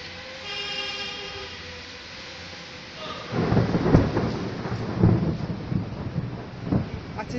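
A storm over Damanhour: after a few seconds of faint tonal hum, deep rolling thunder breaks in and rumbles on in heavy surges, with rain hissing steadily underneath.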